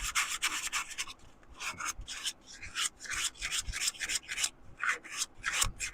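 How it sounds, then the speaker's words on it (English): Sandpaper rubs against a wooden piece spinning on a lathe, removing sanding marks, in close, rhythmic rasping strokes that repeat quickly and evenly, with no talking. "now we just need to get rid of sanding marks"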